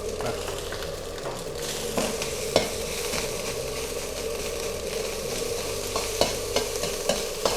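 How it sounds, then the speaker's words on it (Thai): Rice and crispy fried pork cracklings stir-fried in an oiled pan, a continuous loud sizzle with repeated sharp spatula scrapes and taps against the metal, close up and without speech. "อันเนี้ยเวลาเราผัดไปถ้าน้ำมันมันแห้งนะครับเติมน้ำมันหน่อย"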